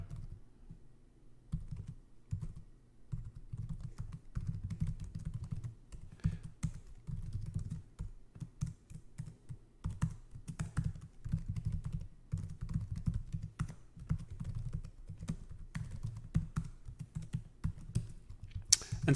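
Steady typing of Python code on a computer keyboard, a dense run of quiet, close key clicks with brief pauses, continuing for the whole stretch with no talking.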